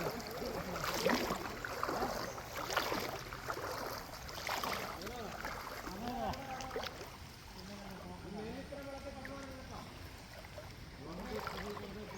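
A boat moves across a flooded river near a submerged causeway at Pooyamkutty, with soft water wash and rushing around the hull, fairly faint, while people talk nearby.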